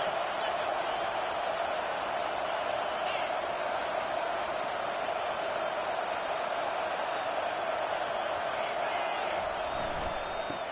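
Stadium crowd noise from the College Football 25 video game during a Tennessee vs Kentucky matchup, a steady dense roar that fills the whole stretch with faint scattered cheers on top.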